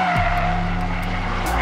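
A Mercedes-AMG A 45 driven hard in race mode on a track, its engine roaring loud and steady at high revs with a brief shift dip and tyre squeal, close and continuous with no voices.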